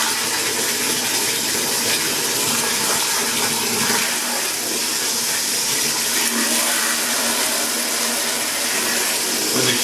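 Muddy water pours out of a container in a steady, continuous broadband wash, loud and close throughout, with no voices over it.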